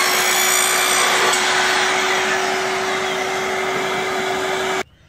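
An Evolution EVOSAW180 7-1/4-inch circular saw with a multi-purpose blade cuts through 1.5-inch PVC pipe. A loud, steady motor whine with gritty cutting noise runs without a break, then cuts off abruptly just before the end.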